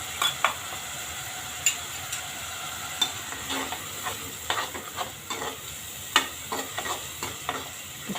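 Masala paste sizzles steadily in a pan while a spatula scrapes and stirs it, giving irregular close clicks and scrapes over a constant frying hiss.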